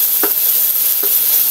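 Chicken with carrots and potatoes sizzling loudly in oil in a pan, a steady bright hiss with a couple of brief stirring scrapes; no voices.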